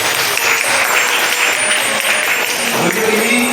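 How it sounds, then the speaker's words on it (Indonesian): Audience applause for a guest professor at a school training event on Bugis elong singing and kecapi lute, a dense, steady clapping that holds strongly throughout, with some faint voices beneath. "Kita berikan aplaus dulu."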